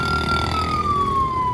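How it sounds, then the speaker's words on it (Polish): An ambulance siren wails continuously in Karachi, Pakistan, its single high tone slowly sliding downward, loud and close amid steady traffic rumble. "Patrzcie jaka karetka."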